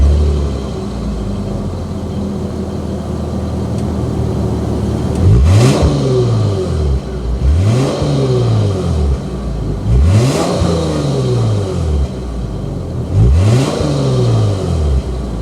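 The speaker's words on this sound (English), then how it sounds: "start it up, and hear that exhaust note." A 2021 Lexus IS 350 F-Sport's V6 engine revs repeatedly, each throttle blip swelling into a throaty exhaust roar and falling back to a steady idle, close and loud.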